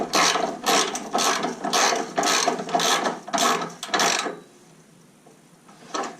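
A ratchet tightens an exhaust clamp on a rear silencer of a Jaguar F-Type V6 S AWD, close and loud, cranking in about eight rapid rhythmic bursts before stopping, then one last short stroke.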